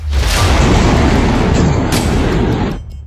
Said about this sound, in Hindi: इस वीडियो में साफ दिख रहा है कि काबुल के रिहायशी इलाके में पाकिस्तान ने बम बरसाए हैं